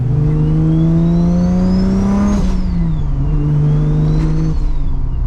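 A 700 hp Toyota Supra with a 2JZ engine and stock V160 transmission pulls hard on a highway, the loud, close engine note climbing through the revs, dipping at a quick gear shift, then climbing again.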